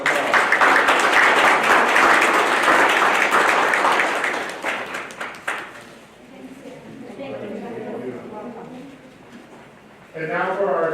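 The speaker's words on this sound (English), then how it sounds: "Let's give our new classified staff a round of applause" A meeting audience claps for newly introduced classified school staff, a dense round of applause for about five seconds that thins out and fades, followed by a quieter stretch where people talk.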